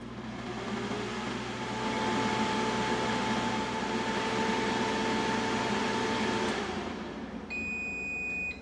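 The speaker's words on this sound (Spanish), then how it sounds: "Voy a precalentar la freidora a 200 grados centígrados durante 5 minutos." An air fryer preheating at 200 degrees hums with a steady fan whir that runs evenly, then a few high electronic beeps sound near the end.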